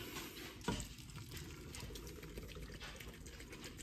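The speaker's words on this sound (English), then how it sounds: "You want to pour in 1 beer." A can of beer poured into a regular pasta pan holding oysters for Oysters Rockefeller, a soft steady trickling and fizzing stream with a small splash near the start, faint and continuous.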